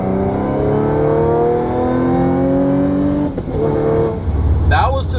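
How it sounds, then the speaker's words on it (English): A tuned Audi S5 B8.5 with a 6-speed manual revs hard to about 6,000 rpm, its pitch climbing steadily as it pulls, loud and close, then drops off as the throttle eases with a brief voice. "That's the highest I've revved it so far since I put the tune on"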